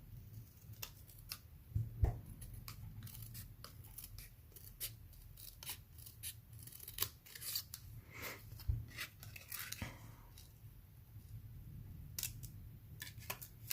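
Scissors snip through card paper while a handmade infinity card is made, giving repeated close cuts and soft paper rustling against a low steady hum.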